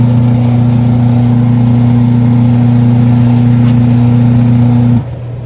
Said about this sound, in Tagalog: Paikutin na natin yung ano Yung motor ng washing machine